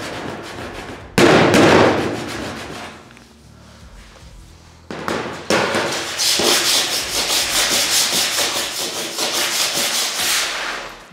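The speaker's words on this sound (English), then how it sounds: "which I can pretty much bring up with the back of the dolly, I reckon, just by rubbing it." A metal dolly is rubbed hard against the dented body panel of a panel van during dent and rust repair. It makes loud, gritty scraping strokes in a short burst, a pause, then a longer run of rapid, rhythmic rubbing close by, with no talk.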